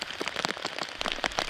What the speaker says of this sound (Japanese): 朝から列島の広い範囲で雨が強まりました。